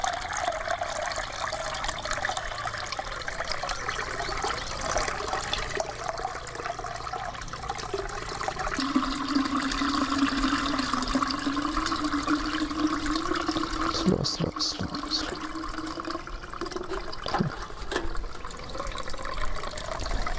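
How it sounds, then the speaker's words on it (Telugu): Water rushes and trickles steadily as cow urine is mixed into a large volume of water, ten litres to a hundred, for a farm spray, a continuous close gurgling pour with a few knocks near the end. "పది లీటర్ల ఆవు మూత్రం 100 లీటర్ల నీటిలో కలుపుకోవాలి."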